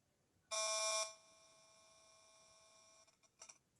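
An RF meter turning a cell phone's radiation into sound gives a loud, steady electronic buzz with a harmonic tone for about half a second. A quieter hum follows, then a few faint stuttering blips near the end, with no talk.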